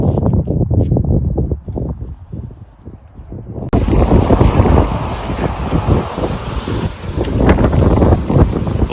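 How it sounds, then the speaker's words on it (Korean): Strong typhoon wind batters the microphone at the seaside in Mokpo, a loud continuous roar with rumbling gusts and surf, growing even heavier partway through. "바람이 왜 이렇게 많이 부는 거야"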